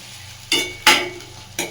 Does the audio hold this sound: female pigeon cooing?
no